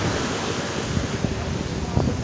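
Sea water off Haji Ali in Mumbai: a steady broadband wash of waves and surf mixed with wind buffeting on the microphone, continuous and fairly loud.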